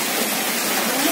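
Heavy rain with wind pours down in a dense, loud, continuous hiss, steady and close throughout the brief moment.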